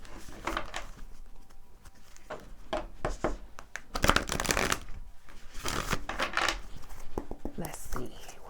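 Tarot cards are shuffled by hand, giving soft riffling and flicking bursts that rise and fall in waves, with a few sharper snaps as cards are drawn, while a person talks quietly between them.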